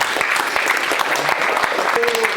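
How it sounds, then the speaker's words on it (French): A church congregation claps and cheers in praise during a lively worship service, the dense applause loud and continuous from start to end, with voices shouting over it. "Quelqu'un acclame le Seigneur."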